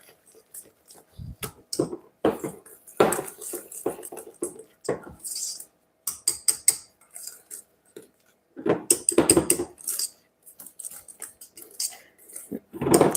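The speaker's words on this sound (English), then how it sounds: "And just give it a quick whisk." Batter for Christmas tuiles, waffles and madeleines is whisked in a bowl, giving brisk bursts of scraping and clinking strokes, close and clear, separated by short pauses.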